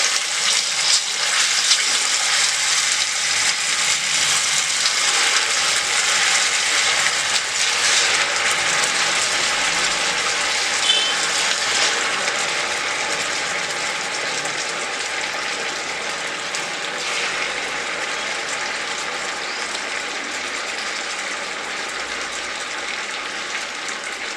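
Potato rice nugget balls fry in a pan of hot oil, giving a loud, steady, hissing sizzle that fills the whole stretch and eases off slightly later on, with no voices.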